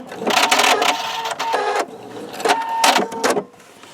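A sewing machine runs in several bursts while stitching log cabin quilt blocks, its rapid mechanical whir starting and stopping with short pauses between seams.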